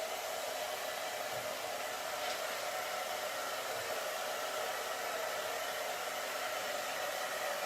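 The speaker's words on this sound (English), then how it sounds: "So I'm going to grab my handy dandy hair dryer. Don't mind the noise, it's going to be a little noisy." Handheld hair dryer blowing to dry a paper winter printable craft, a loud continuous close airy whoosh with an even motor hum that holds steady throughout, with no talking.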